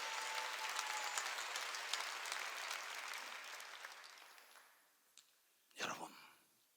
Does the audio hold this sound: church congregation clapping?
yes